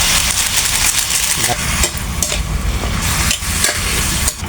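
Vegetables with tomato and moringa leaves are stirred in a hot cooking pan, giving steady close sizzling and frying with scraping stir strokes throughout.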